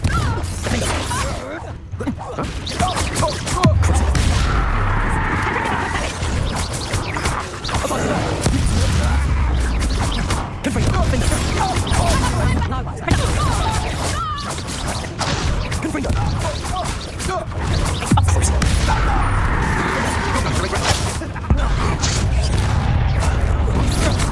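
Confringo blasting spell in Hogwarts Legacy, a long battle of loud repeated explosive bursts, whacks and crashes with brief gaps, voices now and then among the din.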